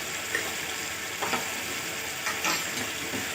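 Black pepper chicken frying with garam masala, salt and green chilies, giving a continuous sizzle broken by a few brief stirring scrapes and spits at moderate volume.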